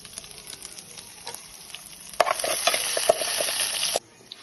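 Cumin, mustard seeds, garlic and green chillies fry in hot oil for a home-cooked Sambalpuri dish, with a steady close sizzle and stirring scrapes that swell louder midway, then cut off abruptly near the end.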